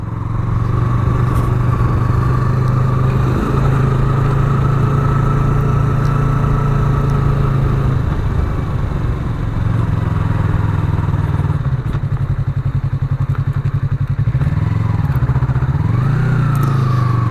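A 2017 Yamaha MT-03 motorcycle engine runs steadily and loud throughout, a constant close drone that shifts pitch briefly near the end as the rider comes to a stop.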